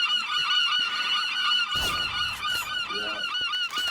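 A seagull in a video game squawks in harsh, honking calls that repeat loudly and almost without pause, with a sharper burst partway through.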